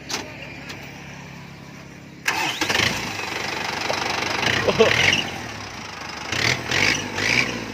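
A Ford 6600 farm tractor's diesel engine cranks and fires up partway through, then settles into a steady, loud mid-pitched run nearby, with a few revs swelling and easing.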